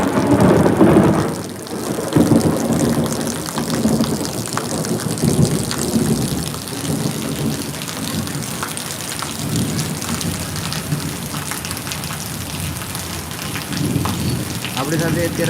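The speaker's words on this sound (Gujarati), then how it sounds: "આ સાઈડમાં અત્યારે વરસાદ છે જોરદાર" Heavy rain pours steadily and loudly over Surat city, with deep rumbles of thunder rolling through, and no voices heard.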